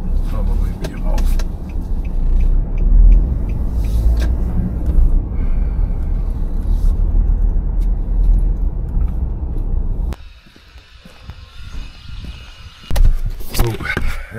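A tractor driving up a farm road, heard from inside the cab as a loud, steady engine rumble that cuts off abruptly near the end, followed by quieter clunks and a brief knock.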